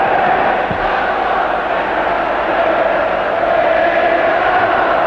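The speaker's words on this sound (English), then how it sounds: "And the crowd know this, the buzzing" Football crowd at a Benfica versus Manchester United match, a loud steady buzzing roar from the stands that holds unbroken throughout.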